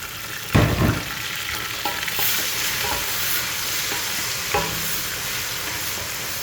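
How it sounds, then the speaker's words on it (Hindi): Chopped ginger, garlic and green chilies are stirred into browned onions in a hot pan, setting off a loud, continuous frying sizzle. Clattering stirring strokes punctuate it. "अच्छी तरीके से फ्राई करेंगे इसको साथ में।"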